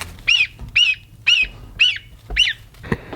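A goose honks five times in a steady rhythm, loud and close, with short pauses between each call.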